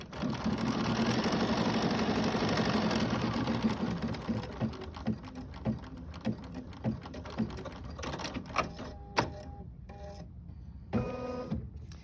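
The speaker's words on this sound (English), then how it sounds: "So the next step is going to tack this fabric down." An embroidery sewing machine tacks fabric down in a hoop for quilting, a dense rapid needle rattle at first that thins into separate stitches and mechanical clicks, with short pauses and quick bursts near the end.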